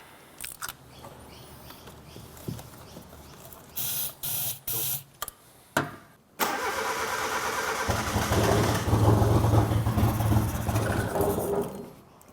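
A barn-find Suzuki Cappuccino cranks in several short bursts with pauses between, then catches and runs roughly, a steady close engine drone holding for several seconds before cutting off.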